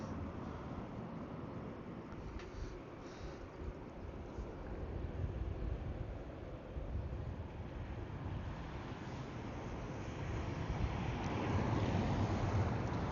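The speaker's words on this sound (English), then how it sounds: "We have still a fresh cold wind here." Cold fresh wind blowing outdoors at Ponta Delgada Airport, a steady low rushing roar buffeting the microphone, continuous and fairly loud, swelling slightly toward the end with no talking.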